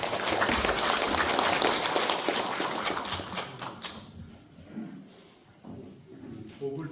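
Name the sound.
audience applause welcoming a professor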